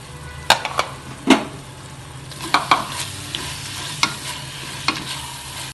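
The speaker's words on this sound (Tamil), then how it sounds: "இதை போட்டு இதையும் கொஞ்சம் பச்சை வாசனை போகிற அளவுக்கு நம்ம நல்லா வதக்கிக்குவோம்" Red chili paste and ginger garlic paste sizzle steadily in a pressure cooker for mutton biryani, while a spoon scrapes and knocks against the pot in sharp, irregular strokes.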